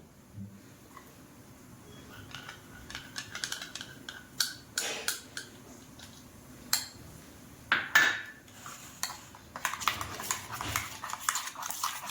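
A spoon clinks and scrapes against a small bowl of tinted sabudana mixture while it is scooped up, faint and close, with irregular light taps and a few sharper knocks in a quiet kitchen.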